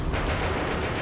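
Rapid gunfire from a World War II fighter plane's guns aimed at an American P-47 fighter, a loud, dense burst of heavy shots running through the whole short stretch.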